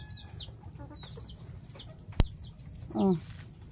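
Chickens and chicks being fed on a farm make a few close clucks and peeps, with one sharp knock and a louder squawk near the end over light background noise.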